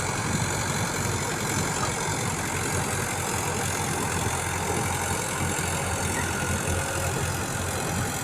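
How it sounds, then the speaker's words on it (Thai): A small boat engine runs steadily and loudly, a constant droning hum with no pauses throughout. "อีกเสียงดังๆก็คือเรือน้องเล็กนะครับ"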